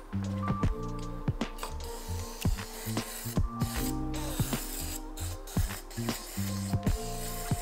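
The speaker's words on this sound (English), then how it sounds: "we're gonna be spraying it just around the throttle body for now" Aerosol throttle body cleaner sprayed around a car's throttle body, with short hissing bursts mixed with quick mechanical clicks and knocks over a steady low hum, fairly close and without talk.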